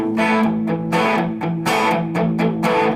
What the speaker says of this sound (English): So I'll put on the distortion here